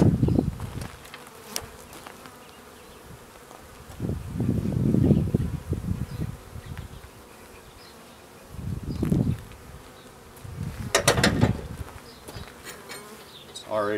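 Honey bees buzzing at an open hive, a low droning hum that swells in several loud close passes between quieter stretches, with occasional rustling handling noises.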